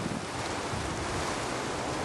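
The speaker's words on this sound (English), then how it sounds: "it's really windy" Strong storm wind roars through a front yard with a tree, a dense, steady broadband rush close to the microphone with no talk.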